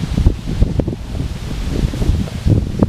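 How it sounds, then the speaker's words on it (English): Strong outdoor wind buffets the microphone in gusty rumbling bursts while a hammock is being strung up, steady and close with periodic louder surges and no speech. "you can see we've got a lot of wind today"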